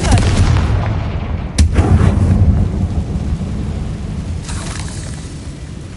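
Booming blasts from the Confringo spell in Hogwarts Legacy roll out as deep, rumbling explosions, with a sharp loud crack near the middle and a fading rumble after, no talking.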